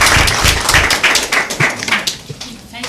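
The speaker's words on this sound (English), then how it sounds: "Let's give him a round of applause." Scattered clapping from a small group, a burst of claps that thins out toward the end, with some voices mixed in.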